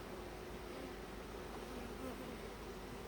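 Honey bees buzzing steadily around an open hive while a five-frame nuc is installed outdoors, a dense continuous hum of many insects close by.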